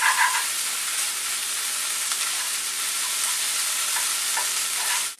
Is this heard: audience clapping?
no